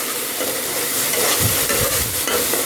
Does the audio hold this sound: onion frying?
yes